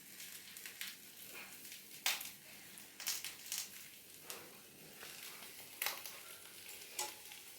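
Half-cooked food frying again in a pan, with a steady sizzle broken by sharp bursts of spitting and stirring scrapes at irregular intervals, close by and alone.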